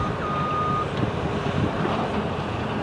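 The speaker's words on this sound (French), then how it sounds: "Voilà la pelleteuse là qui remplit son camion." Steady low machinery rumble of an excavator loading a truck at a port construction site, with a brief faint reversing beep early on.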